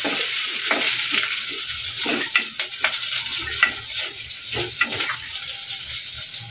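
Onions added to reddened garlic and sautéed in a pan, a loud close sizzle with repeated scraping strokes of a spatula at an irregular rhythm.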